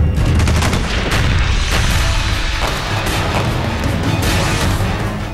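Cross-border firing at the frontier crackles as a loud, dense barrage of overlapping gunshots and booms, continuous and close, with no pauses.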